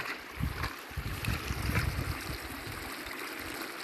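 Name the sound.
floodwater flowing down a stream into rice fields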